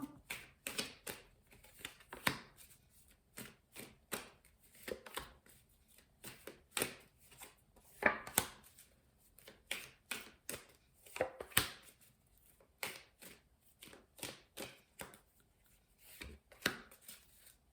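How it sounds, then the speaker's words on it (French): Tarot cards are drawn and laid out one after another, with a long run of quick, dry slaps and shuffling flicks, close and moderately loud, in irregular bursts. "je vais vous sortir 6 cartes"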